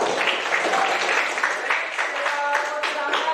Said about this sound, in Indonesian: Tepuk tangan buat kelompok pro.